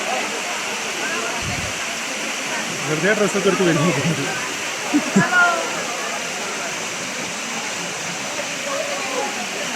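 Elephant Falls in Shillong, Meghalaya, pours over black rocks in a loud, constant roar of rushing water that fills the whole stretch, while a person talks briefly over it in the middle.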